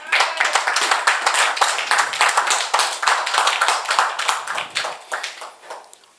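A church congregation claps together in praise of the Lord during a worship service, producing loud, steady rhythmic applause that thins out and fades near the end.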